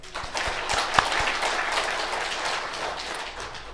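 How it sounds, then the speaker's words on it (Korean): Church congregation applauding at an elder ordination and retirement thanksgiving service, a steady wash of many hands clapping together at moderate volume, with a few sharper individual claps near the start. "우리 박수 한번 합시다"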